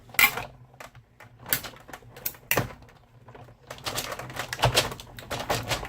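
A hand-cranked die-cutting machine rolls Bethlehem Edgelits dies and paper through between cutting pads, producing a run of close, moderately loud clicks, knocks and grinding creaks that come in irregular bursts over several seconds.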